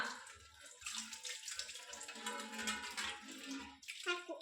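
Water runs steadily from a tap during washing up at home, a continuous soft splashing stream with some clinks underneath, faint and fairly close.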